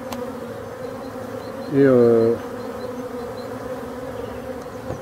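Honeybees buzz around the hive entrance in the morning while carrying pollen, a steady swarm hum that swells loudly for a moment as a bee passes close, with someone speaking French briefly.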